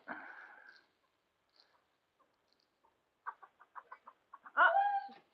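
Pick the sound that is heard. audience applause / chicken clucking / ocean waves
chicken clucking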